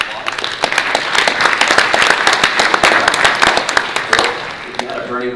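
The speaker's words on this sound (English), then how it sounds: "Let's give Sarah and Bill a round of applause" Loud, dense audience applause after a presentation at an elected officials' reception, sustained and close for several seconds before tapering off at the end.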